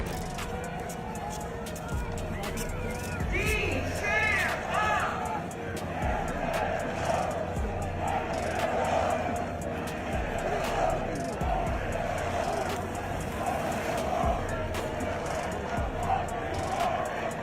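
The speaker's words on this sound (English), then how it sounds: "Showing crowds chanting with venom rather than enthusiasm" A large golf gallery at a Saturday afternoon four-ball session chants and shouts in a hostile, jeering tone, a dense steady roar of massed voices with rhythmic swells throughout.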